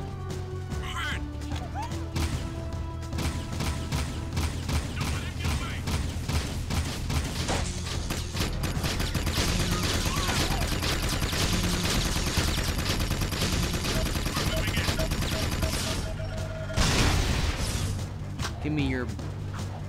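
Rapid gunfire from Jak's yellow bullet weapon in the Jak 2 video game, a dense run of sharp repeated shots over a busy game soundscape with music, with a louder burst near the end.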